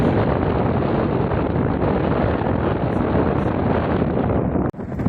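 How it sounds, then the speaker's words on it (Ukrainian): Strong wind of a sandstorm in Peru buffets the microphone in a loud, continuous roar that drowns everything else, broken by a brief dropout near the end. "От вітру тут вряд ли заховаєшся."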